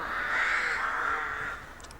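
A single drawn-out crow-like caw rings out in a quiet space, one harsh call lasting about a second and a half, fairly close and alone.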